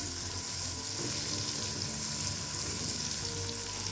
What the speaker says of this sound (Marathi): काजू घ्यायचे आवडीनुसार बदाम घ्यायचे कापलेले आवडीनुसार परतून घेऊया